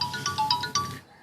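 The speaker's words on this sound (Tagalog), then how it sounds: "Adaw mo awag iti cellphone ko." A mobile phone plays a bright melodic ringtone for an incoming call, a quick run of chiming tones repeated close by for about a second before it cuts off.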